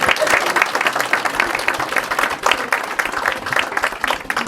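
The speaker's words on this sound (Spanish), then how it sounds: "Aplaudan, se van a aplaudir." An audience at a figurative art conference in Oaxaca applauds a speaker, loud continuous clapping from many hands filling the room, close and even throughout.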